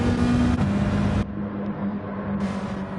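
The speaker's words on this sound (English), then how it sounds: "Very noisy in these group 4 cars." Group 4 race cars in Gran Turismo 7 drone with a loud, steady engine roar that holds a constant pitch, dipping slightly in brightness partway through before rising again.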